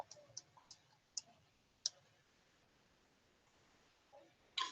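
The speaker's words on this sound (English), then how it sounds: "if you have a calculator like this, you can just type that in" Calculator buttons are pressed in a quick series of soft, light clicks, then a pause and one more tap at the end, faint and close in a quiet room.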